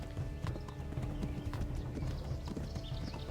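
Horse hooves pound steadily through a forest in the Kingdom Come: Deliverance video game, a continuous galloping clip-clop with an occasional whinny, close and moderately loud.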